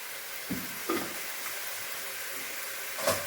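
Mustard seeds splutter in hot oil for an ivy gourd stir-fry, a faint steady hiss broken by a handful of sharp, scattered pops.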